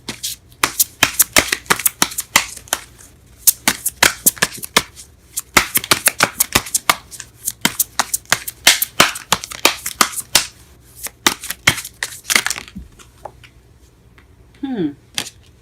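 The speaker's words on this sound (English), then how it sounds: "I am drawing cards everywhere." Tarot cards riffled and shuffled in a rapid, close crackling series of flicks that runs for about twelve seconds, then a few softer taps as cards are set down, with no talk over it.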